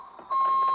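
A toy green garbage truck gives a short, bright electronic beep, a steady tone starting abruptly and holding to the end.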